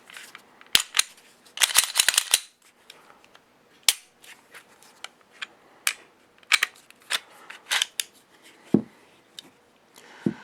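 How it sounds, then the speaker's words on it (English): A handgun is taken apart by hand and a round is cleared from its chamber, making a close, irregular series of sharp metallic clicks, snaps and light rattles with quiet gaps between them and no talking. "I'm going to take the gun apart now"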